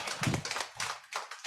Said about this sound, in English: Can you hear everybody clapping for you?